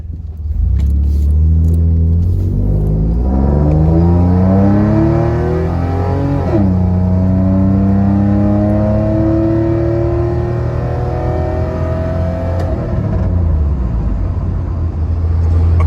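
A 3800 V6 Pontiac Firebird with a glasspack muffler revs up and down repeatedly with a throaty, rumbling exhaust, loud and close, the pitch rising and falling over a steady idle.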